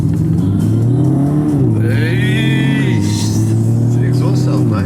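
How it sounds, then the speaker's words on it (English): A car engine revs up loudly close by, its exhaust note rising and falling in pitch over several seconds, with a voice heard briefly. "Can you give us one acceleration?"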